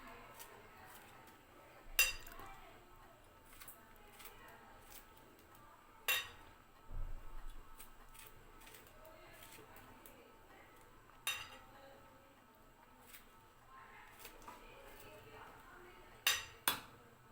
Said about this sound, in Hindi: तो अब मैं कटिंग करती हूँ स्ट्रॉबेरी की।